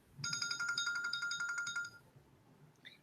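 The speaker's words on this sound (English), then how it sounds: "When the timer is done, it will make this sound." A phone timer alarm goes off with a bright, steady electronic ringtone of repeated tonal pulses lasting about two seconds, then cuts out, followed by a faint short chirp.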